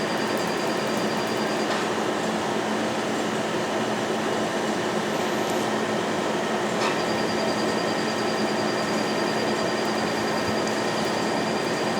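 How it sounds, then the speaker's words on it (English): A Zimmer chiller blows freezing cold air during laser tattoo removal, giving a steady, dense whooshing hiss with a faint constant whine, close and unbroken for the whole stretch. "we have the Zimmer chiller, which is actually blowing out freezing cold air"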